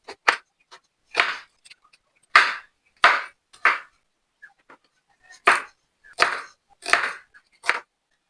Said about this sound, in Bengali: এখন আমি ক্যাপসিকাম পেঁয়াজ গুলোকে কেটে নেবো।